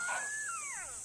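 African wild dog pack calling at night, a faint distant whine that rises and then slides downward in drawn-out, overlapping tones over a steady insect-like hiss.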